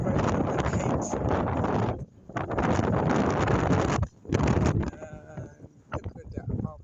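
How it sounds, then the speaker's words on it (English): Gusty wind on a seafront in Mazara del Vallo, Sicily, buffeting the microphone in loud, rough bursts that drop out briefly and return, with someone talking underneath. "It's very windy."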